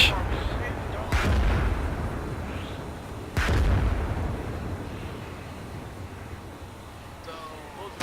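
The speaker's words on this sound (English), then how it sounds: "There's an incoming airstrike on our position." Two heavy booms from an incoming airstrike in the military game ArmA, each a loud broadband blast with a rumbling decay, separated by a couple of seconds against constant noise.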